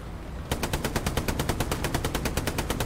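Loud automatic gunfire in a video game: after half a second of quieter background, a rapid, evenly spaced stream of shots runs continuously to the end.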